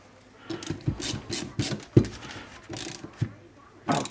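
A wrench snugs an M8 nut onto a lock washer on a truck kingpin bolt, giving a run of short, faint metallic clicks and ratcheting bursts spaced irregularly, with one sharper knock midway.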